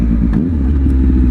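A Triumph Speed Triple RS motorcycle engine rumbles and revs under light throttle, a loud, steady close-up growl with brief swells in pitch and no talking.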